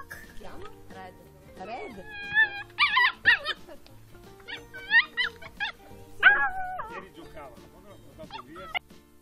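A dog makes a series of yips, whimpers and short barks close by, in irregular bursts over a steady low background.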